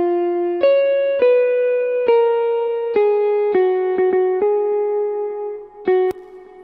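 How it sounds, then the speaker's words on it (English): A clean synthesized guitar from the Nexus plugin plays a slow melody of single plucked notes, about ten in a row, with a smooth sustained tail. "So this is the guitar on Nexus. This is what it sounds like."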